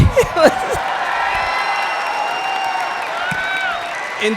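An audience breaks into loud applause mixed with cheers and whoops, a continuous crowd roar with whistles rising over it.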